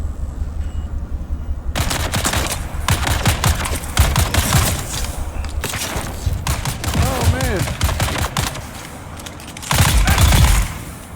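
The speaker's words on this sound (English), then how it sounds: "Someone's firing." Automatic weapon fire in the game Dune: Awakening, repeated bursts of close, loud shots in an irregular rhythm with brief gaps, and a voice speaking between them.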